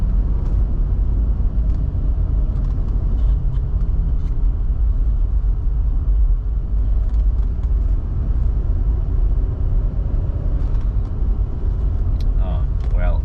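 A Mercedes-Benz W124 with over 400,000 km rolls along a road, heard from inside as a constant low engine and road rumble, with faint voice-like sounds and small clicks toward the end.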